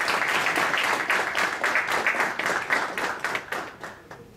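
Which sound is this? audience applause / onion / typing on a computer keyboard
audience applause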